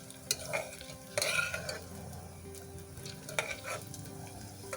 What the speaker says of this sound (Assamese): পিঁয়াজটো অকণমান ৰঙচুৱাকৈ ভাজিম।